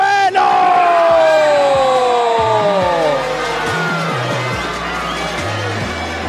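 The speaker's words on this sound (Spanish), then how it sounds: "Recibamos con un fuerte aplauso a Óscar Da Punisher Ravelo." An arena crowd at a Fusion Fighting Championship event in Gran Canaria roars and cheers as a fighter is introduced, with swelling shouts over a deep rhythmic pulse of music and an announcer's voice.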